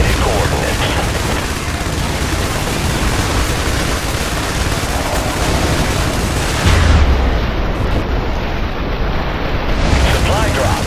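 Airstrike explosions thunder in the video game IS Defense, a dense, continuous roar of booming blasts and rumble with a heavier impact surge near the middle, loud and close throughout.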